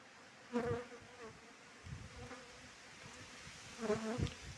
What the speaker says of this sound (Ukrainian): Бджоли вже так шабушні реагують на матку.